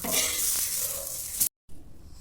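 Loud, steady sizzling of eggplant frying in a hot pan, with a few scrapes of stirring, then a sudden cutoff and faint sizzle afterward.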